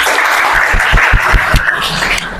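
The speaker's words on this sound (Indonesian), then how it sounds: "Oke, beri tepuk tangan." A room full of people clapping, a steady dense patter of applause that holds for a couple of seconds.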